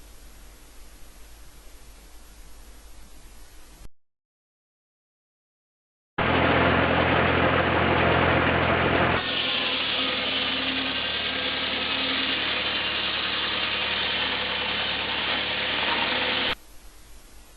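A sawmill cuts home-grown timber into a 3-inch slab. The blade gives a loud, steady, rushing whine that cuts out briefly, then returns and holds with a shift in pitch partway through, with no voices.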